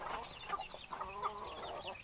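Chickens cluck near a backyard coop at feeding time, with feed being scattered on the ground; several overlapping birds give short, bright clucks and calls, loud and close, with no voices.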